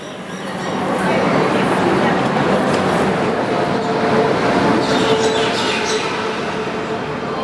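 The Vidarbha Express, train 12106, running at about 130 km/h between Nagpur and Wardha, heard from inside as a loud, steady roar of wheels and rushing air with faint rhythmic clatter, holding constant throughout.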